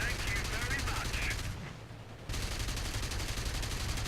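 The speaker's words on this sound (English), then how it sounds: "Firing only machine guns" Machine guns of a Messerschmitt Bf 109 G-10 in War Thunder, a rapid continuous rattle of fire that pauses briefly midway and then resumes, fairly faint and steady, with no voices.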